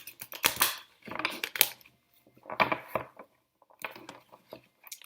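Tarot cards being shuffled by hand: several bursts of crisp riffling and flicking, each about half a second long, separated by short pauses. No talk is heard.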